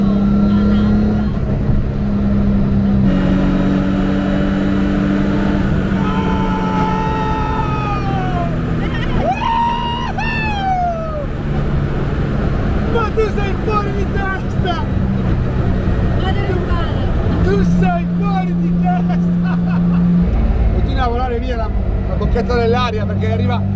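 Radical race car engine droning loud and close while driving on a road toward a toll booth, with rising and falling revs through gear changes and people talking over the noise throughout.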